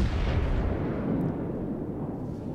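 A battleship's main-gun volley in World of Warships, the Alabama, booms as one heavy, loud blast whose rumble rolls on and slowly fades over a couple of seconds, with no talk.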